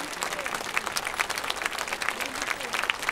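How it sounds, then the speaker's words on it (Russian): Concert audience applauding performers after a cello and brass band concert, a dense, steady wash of many hands clapping throughout. "И еще овации для всех, артистов, кто стоит на этой сцене"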